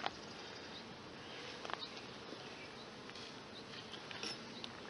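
A honey bee hive hums with a dense, even buzzing of many bees drawing comb, a steady close drone with occasional faint ticks and no talking.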